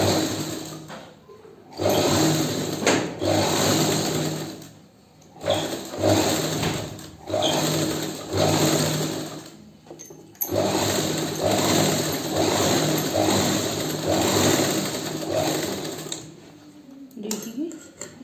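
A sewing machine runs a second seam along a garment, its close mechanical whir coming in repeated bursts with short pauses between runs.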